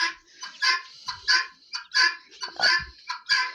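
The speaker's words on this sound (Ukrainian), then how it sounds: "досить спокійні такі кури, досить спокійні квочечки" A broody hen clucks in short, repeated bursts close by, a rapid series of throaty chattering calls with little pause between them.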